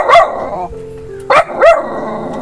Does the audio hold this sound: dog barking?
yes